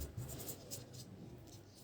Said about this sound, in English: I'm going to wet my paper properly.